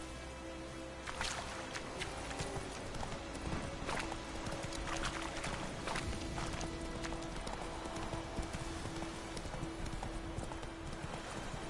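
Geralt's horse Roach in The Witcher 3, hooves clip-clopping in a steady trotting rhythm close by, continuing throughout over ambient game sound.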